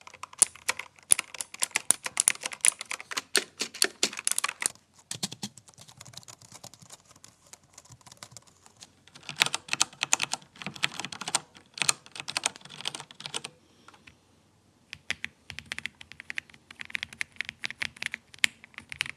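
Rapid clattering keystrokes on a GravaStar Mercury K1 gaming keyboard with linear switches, coming in dense bursts separated by short pauses, close and clear with no voices.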